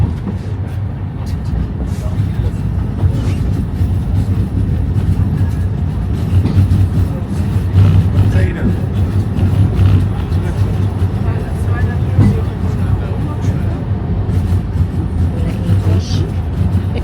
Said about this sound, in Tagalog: 可以看到整列的星光列车通过第一个漂亮的弯道